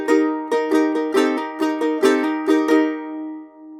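A ukulele plays the opening part of a piece as a quick series of about nine bright strums in a lilting, uneven rhythm. Each strum rings out clearly and close, and the last chord fades away on its own.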